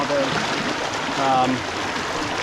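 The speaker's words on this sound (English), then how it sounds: "So this is all draining from Mallory Swamp and up in Lafayette County" Swamp water from the Lafayette County swamplands drains along a stream toward the Gulf, a steady broadband trickle and rush that holds evenly throughout, with a few faint tonal bird-like chirps above it.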